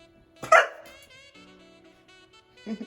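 A puppy lets out one sharp, high yip-bark up close, followed by softer whining and whimpering tones, then a second short bark near the end.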